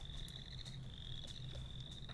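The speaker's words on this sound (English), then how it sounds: "That must have been the peeper frogs. It sounds like them." Spring peeper frogs calling outdoors, a thin high steady peeping chorus with occasional sharper individual peeps, faint and distant with a low rumble beneath.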